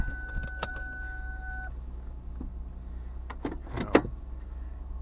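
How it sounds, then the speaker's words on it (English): A Ford Taurus on a test drive after lower control arm bushing replacement to cure a front-end knock: steady low engine and road rumble inside the car, with scattered clicks and a sharper knock or thump near the end. "Get ready to take it for a little test drive here."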